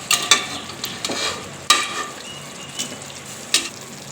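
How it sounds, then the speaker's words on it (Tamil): Chicken fries in ginger garlic paste while a spoon stirs it, with a loud close sizzle and several sharp scraping clanks against the pan; no talking. "இப்போ இதை நல்லா கிண்டி விடலாங்க. இஞ்சி பூண்டு பேஸ்ட்டோட நல்லா மிக்ஸ் ஆகிட்டோங்க, அந்த அளவுக்கு கிண்டி விடுங்க."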